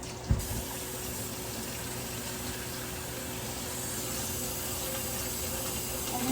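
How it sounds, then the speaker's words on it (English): Cold water pours from a kitchen tap into a bowl while green beans are being preserved, a steady, even rushing stream after a brief knock at the start, running continuously and close by. "I'm gonna go ahead and add cold water"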